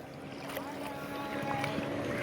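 A boat is pushed by hand through the surf on the Malvan coast of Sindhudurg, with steady rushing water and wind noise filling the short stretch continuously at close range.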